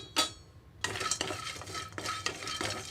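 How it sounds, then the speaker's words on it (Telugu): Grated coconut dry-roasts in a pan on low flame, heard as soft rhythmic spatula scrapes and stirring strokes at close range over a faint, quiet crackle. "లో ఫ్లేమ్లో మాత్రమే ఉంచి వేయించుకుంటే చక్కగా అందులో ఉండే ఆయిల్ వల్లనే మనకి కొబ్బరి చక్కగా వేగిపోతుంది రెండు నిమిషాలు వేయించుకుంటున్నాను"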